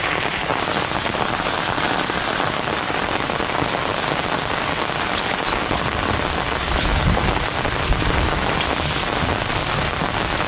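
Heavy rain pours steadily, a dense loud hiss of drops drumming on a surface close by, continuous throughout with no voices.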